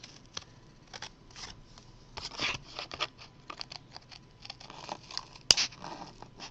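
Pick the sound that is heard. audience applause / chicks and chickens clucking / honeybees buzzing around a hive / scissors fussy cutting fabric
scissors fussy cutting fabric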